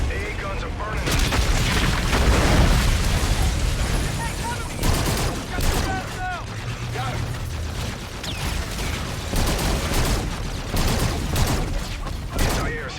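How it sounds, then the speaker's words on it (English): Anti-air gunfire in Call of Duty Infinite Warfare, a dense continuous barrage of rapid bursts and booms with crackling impacts throughout, loud and close, with radio-style voices talking over it. "AA guns are engaging jackals. AA guns are burning us."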